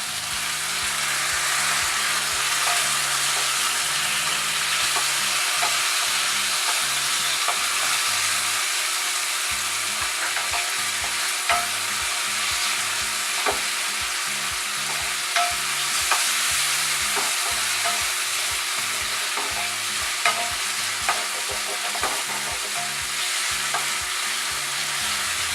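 Onion, ginger and tomato fry in a pan as the base for sarson ka saag, a continuous loud sizzle with a steady rhythm of stirring and scraping, no voices.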